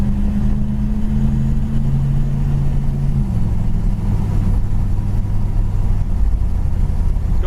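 A 1970 Plymouth Satellite with a 318 V8 and automatic transmission drives down the road, its engine note rising steadily and then shifting pitch as it gathers speed, a continuous close rumble with no talking.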